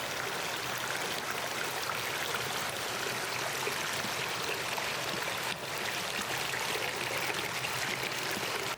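Sulfur hot spring water pours steadily into a bath at Takayu Onsen's Hige no Ie inn, making a continuous close trickling rush with no pauses and no voices.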